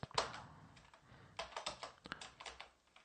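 Code is typed on a computer keyboard in quiet, quick bursts of key clicks with short pauses between them, close by and with no talking.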